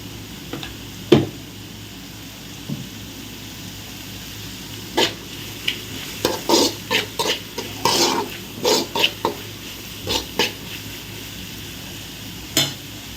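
Vegetables and vermicelli sauté in a pan with salt and spices, giving irregular scraping and clinking stirs over a faint, steady sizzle.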